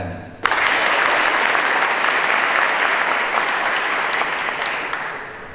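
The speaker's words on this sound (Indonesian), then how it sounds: "Tepuk tangan" Students at SMA Taruna Nusantara break into loud applause for a visiting speaker, a sudden burst of dense crowd clapping that holds steady and tapers slightly at the end.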